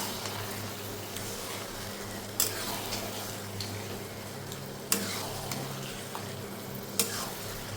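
Marinated mutton fries in a hot kadai with a steady, moderate sizzle. Three sharp metallic clanks of stirring punctuate it at roughly even gaps.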